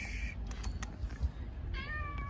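A pet cat gives two clear meows, one at the start and one near the end, with faint thumps and rustling between them in a quiet indoor space.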